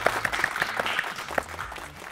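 Audience applause for a guest presenter at a motorcycle technology show, a dense burst of clapping that holds steady for about two seconds and then thins toward the end.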